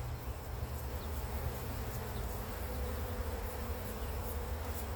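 A dense, continuous buzz of many honey bees fills the air, steady and close, with no voices.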